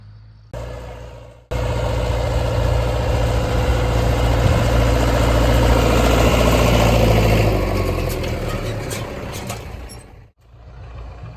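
A Chinese tractor's diesel engine idles steadily with a deep, rumbling throb after starting up, then shuts off abruptly near the end.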